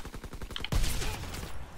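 Gunfire in the World War II shooter game Call of Duty WWII: a rapid burst of regular shots, then a loud heavy blast followed by a sustained noisy rumble of continued fire and effects.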